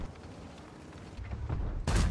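The BZ-72-1 tank fires its cannon in a tank video game: a sudden loud, broadband blast at the end, preceded by quieter engine rumble and battlefield noise.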